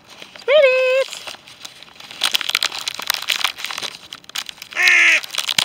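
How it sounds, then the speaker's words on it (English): Crow cawing in woodland, two loud harsh caw calls near the start and end, close by, with rustling and footsteps from people walking between them. "That's a caw. That's definitely a crow."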